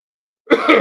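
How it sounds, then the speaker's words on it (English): A single short cough, close and fairly loud, right after a moment of silence. "sorry for the coughing. I don't mean to cough"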